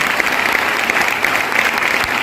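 Steady, loud applause from a seminar audience, many hands clapping densely and evenly throughout with no voices standing out.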